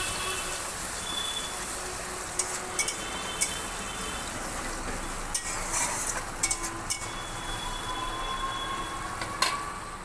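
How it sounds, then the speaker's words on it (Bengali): A ground paste of coriander, cumin, ginger, tomato and green chilli sizzles in a kadai, a soft continuous hiss broken by scattered clicks and scrapes of a spoon stirring, near and without speech. "মশলাটা কড়াইয়ে কষানো হচ্ছে"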